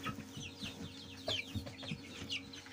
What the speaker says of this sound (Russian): Пересадил цыплят.